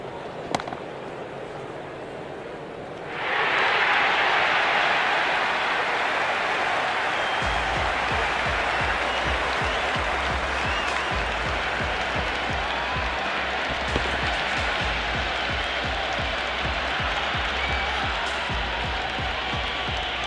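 At an IPL cricket match between RCB and Gujarat, a stadium crowd erupts after a wicket. A quieter murmur swells suddenly into a loud, sustained roar of cheering and clapping with sharp crackling bursts, and it stays intense to the end.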